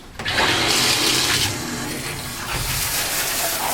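Tap water runs steadily into a sink for rinsing after soaping, a continuous splashing hiss with slight shifts in flow, close and fairly loud, no voices.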